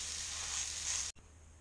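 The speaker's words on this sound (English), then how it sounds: "I'm just going to sear this off, and then we'll take it out and let it rest." A venison loin rubbed with Cajun spices sears in a hot pan, a loud, steady sizzle and hiss close up that cuts off abruptly near the end before faintly resuming.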